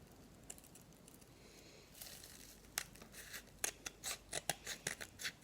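Scissors snipping angel hair tinsel for a Christmas decoration, a string of soft close cuts that grows into quick repeated snips with light crinkling, fairly quiet and without talking.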